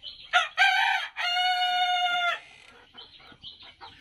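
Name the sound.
Japanese Black Tail chickens and rooster on a farm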